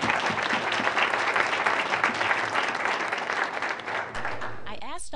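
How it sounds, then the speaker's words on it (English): A studio audience breaks into sustained applause, dense steady clapping that holds for several seconds before a voice begins speaking at the very end. "So I think they deserve a round of applause."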